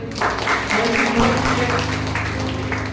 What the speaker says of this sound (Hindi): प्रभु के लिए हम ताली बजाएंगे।